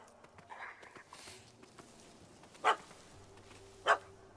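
A dog in The Witcher 3 barks at a cat that has fled up a tree, two sharp barks spaced about a second apart, with soft ambient game sounds between them.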